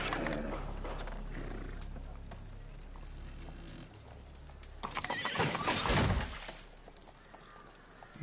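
A horse whinnies loudly amid hoof clatter and scuffling as it slips, with a crash-like burst partway through, set in a scene from Sherlock Holmes: The Devil's Daughter.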